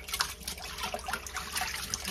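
Water runs and splashes steadily while chitterlings are washed in a kitchen sink, a continuous close hiss with small irregular splashes and no talk.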